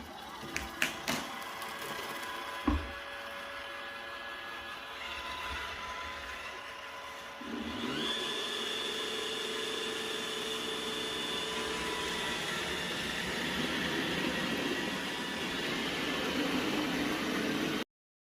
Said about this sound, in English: we watch this robot vacuum clean up these Orbeez